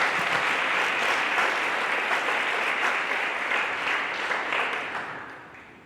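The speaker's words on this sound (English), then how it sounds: "let's give Mike Trudella a big round of applause" An audience at an athletics hall of fame induction claps for inductee Mike Trudella, a full, even round of applause that holds steady and then gradually fades out near the end.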